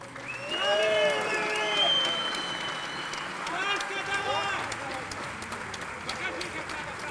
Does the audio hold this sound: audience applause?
yes